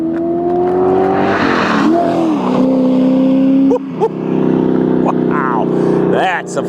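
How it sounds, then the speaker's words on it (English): A 2011 Factory 5 GTM sports car roars past at speed, a loud rising and falling engine note with gear changes, while people talk and exclaim over it nearby. "Wow, that's a flyby."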